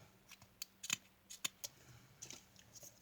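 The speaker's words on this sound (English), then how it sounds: "I'm just going to cut a little piece off" Scissors snip a piece of blue-dyed doily, producing a series of short, crisp, irregular cuts that sound faint and close in a quiet room.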